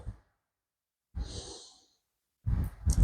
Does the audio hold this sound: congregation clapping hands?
no